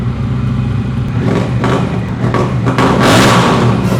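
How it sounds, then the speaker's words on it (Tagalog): A motorcycle with a Vance & Hines exhaust idles loudly with a deep rumble, then revs up with rising throttle bursts close by, no talking. "And soundcheck na rin natin yung tunog ng Vans and Hines."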